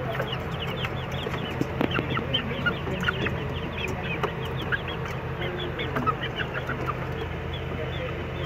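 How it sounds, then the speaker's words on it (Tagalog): Backyard flock of four hens and one rooster in a wooden pen, steady overlapping clucking with scattered sharper calls throughout, close by over constant low background noise. "Bali lima sila, pat na inahin tsaka isang lalaki tandang yun."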